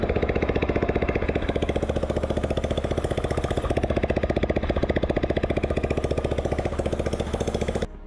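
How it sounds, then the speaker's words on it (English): Mini bike engine running with no exhaust fitted, a loud, harsh rapid popping putter that stays steady and close for several seconds before cutting off abruptly at the end. "let's fire the baby back up"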